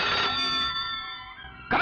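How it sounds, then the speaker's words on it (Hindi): A telephone bell rings insistently in a Hindi action film, a bright metallic trill that fades slightly, then bursts out again at the end. "ये टेलीफोन की घंटियां तुम्हें बचाने के लिए हैं।"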